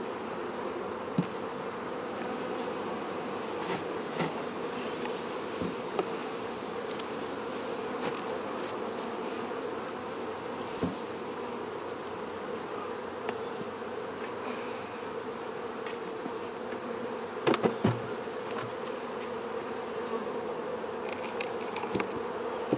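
Honey bees buzz steadily at an opened beehive during a summer varroa mite check, a dense, continuous hum with occasional louder passes of individual bees close by, no talking.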